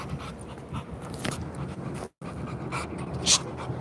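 A dog pants rapidly and close up in steady bursts of breathy huffs, with a short break midway and a faint whimper near the end, and no speech.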